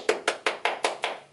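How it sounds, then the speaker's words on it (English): Six evenly spaced hand claps, close and crisp, steady rhythm, from a children's sing-along session celebrating a job well done; no talking over them. "And give yourself a round of applause."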